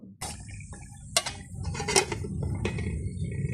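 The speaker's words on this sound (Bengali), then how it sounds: "চিকেন কোরমাটা রান্না করতেছি আর অবশ্যই নেড়ে চেড়ে ভালো করে কষিয়ে নিতে হবে" Chicken korma being stirred and braised in a cooking pot, with a spoon scraping and clinking against the metal in irregular close knocks over a low bubbling sizzle.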